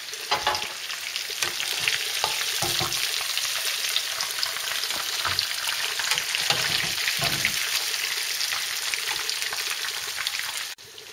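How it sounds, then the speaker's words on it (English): Small Greek sausages frying in a pan give a steady, close sizzle with occasional stirring clinks and pops throughout, no talking. "When the sausages are brown, take them out and cook the rest."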